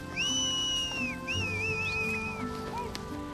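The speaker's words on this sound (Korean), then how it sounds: "가축의 대열이 흐트러지자 사람들은 연신 휘파람을 붑니다." Mongolian tundra nomads herding yaks and livestock up a snowy mountain trail whistle repeatedly, long sliding high-pitched whistles rising and falling over steady low background noise.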